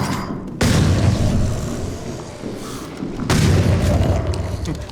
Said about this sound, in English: The shotgun is so fun to use.